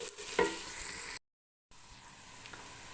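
Spoon stirring garlic and ginger frying in a pan, a close steady sizzle with scraping stirs; the sound cuts out briefly in the middle, then sizzling resumes more faintly.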